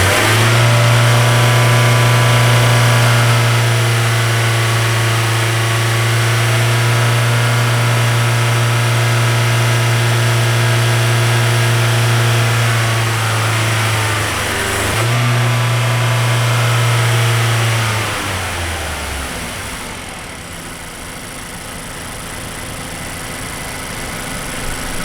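GDI car engine held at raised revs between 3,000 and 4,000 RPM during an intake valve cleaning, a loud steady drone that drops and wavers before settling back toward a lower, quieter idle.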